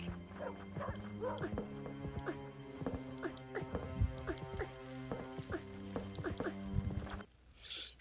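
Dog barks from the PS1 video game Chicken Run, short repeated yips and bow-wows over looping game music and effects, fairly clear and evenly spaced.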